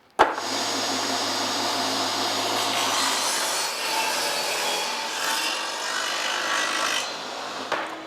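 A table saw rips a 1.25-inch wood strip, one continuous loud rasping cut lasting about seven seconds, close to the microphone.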